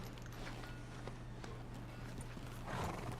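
A horse in Red Dead Redemption 2 clip-clops along with a soft snort or whinny, its hooves steady and fairly close amid quiet ambient noise.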